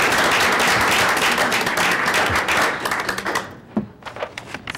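Audience applause at a college advisory council meeting, a dense burst of clapping that thins out into scattered individual claps near the end.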